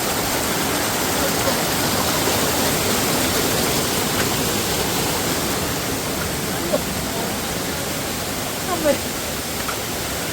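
A waterfall in Thrissur, Kerala roars steadily throughout, a dense, even rush of water with no breaks.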